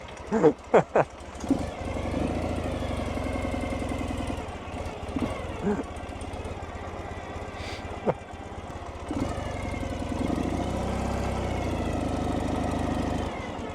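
A motorcycle fitted with a parking brake and reverse gear runs with a steady low rumbling idle after a few sharp revs at the start, as people talk over the engine.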